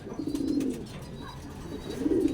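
Soft, low pigeon cooing in two rounds, near and fairly quiet, with faint outdoor background noise, from a racing pigeon at a toss in Padre Garcia, Batangas.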